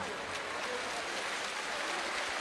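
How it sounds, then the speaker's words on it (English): A home basketball crowd applauds an injured player heading off the court, a steady wash of clapping that stays even and moderately distant throughout. "And the crowd, very good sportsmanship, applaud him as he goes over"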